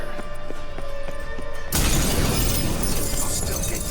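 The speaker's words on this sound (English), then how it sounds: "Gotta be some mirror here you won't shatter." A mirror shatters in The Witcher 3: Hearts of Stone, one sudden loud burst of breaking glass that cuts through a humming, tonal game backdrop and rings out in a crackling wash.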